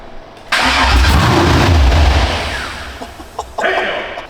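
A Chevy OBS truck with a freshly swapped LS engine, run on a temporary hose setup, cranks and fires for its first startup, then roars loud and close before settling to a rougher idle and a brief blip of revs.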